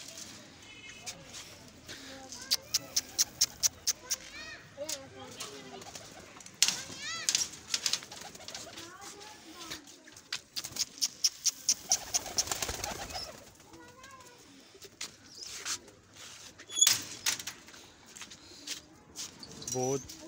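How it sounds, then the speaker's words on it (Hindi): Hungry pigeons crowd around scattered grain, cooing and bursting into repeated flurries of wing flapping, with pecking and shuffling close by and someone talking at intervals. "बहुत भूखे हुए हैं कबूतर,"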